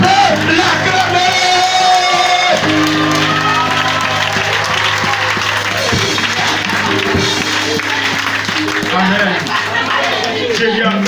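A church congregation at a Christmas seminar applauds and cheers, and shouts and yells rise over sustained clapping while a loud voice speaks and music plays underneath.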